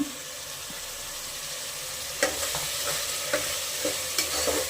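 Tomato bath mixture of tomato and coriander leaves fries in a pan under a steady close sizzle, with repeated light scrapes and knocks of a spoon stirring it every second or so, no voices.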